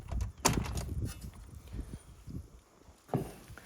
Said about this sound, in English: So you can see how nice they open and close the door.